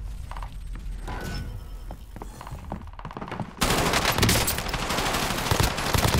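Rapid automatic gunfire in a multiplayer shooter game, a dense sustained burst of rattling shots that grows louder and fills the second half, with earlier scattered shots and mechanical clatter.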